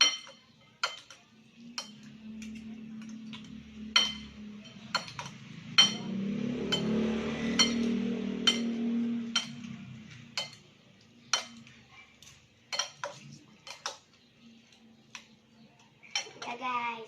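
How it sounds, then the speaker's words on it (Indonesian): Utensils stirring and clinking against a cooking pot in a home kitchen, a run of sharp metallic taps spread across the clip over a low background murmur, with voices talking at times. "Kita aduk guys"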